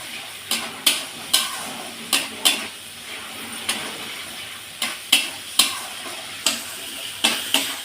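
Masala spices with turmeric frying in oil for a sweet-sour spicy meat dish, a low sizzle broken by about a dozen sharp spatula scrapes and clicks against the pan at an uneven pace, no talk.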